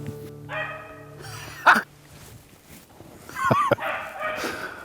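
A hunting dog barks and yips in the field during a rabbit hunt, a few sharp calls at middle distance with quieter gaps between them.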